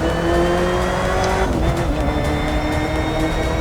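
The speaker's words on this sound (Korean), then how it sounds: "특히 그 지하 주차장에서 이 포드 GT 시동 딱 걸었을 때 그 배기음" A Ford GT engine roars loudly and steadily, with a rising rev partway through, its exhaust note echoing in an underground parking garage.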